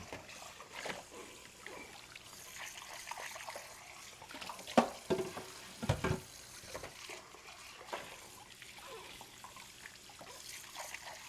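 Running tap water trickles and splashes as dishes are washed in a kitchen sink, with occasional clinks of utensils, moderately quiet and steady throughout.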